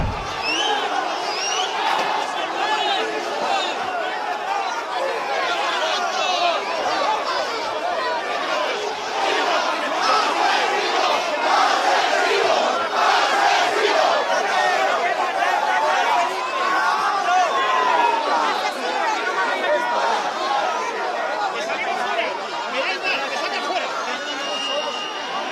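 An angry crowd confronting Spain's king and queen in a flood-hit area, a dense roar of shouting voices and agitated chatter, loud and continuous throughout, with individual yells rising over the mass.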